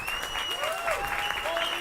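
Audience at a political party affiliation event applauding steadily, a dense wash of clapping with whistles and cheers over it.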